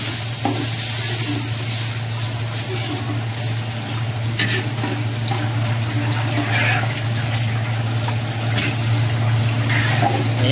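Water goes into an old cooking pan as tilapia is prepared, giving a steady, loud sizzling hiss with stirring and liquid sounds that carry on throughout without speech.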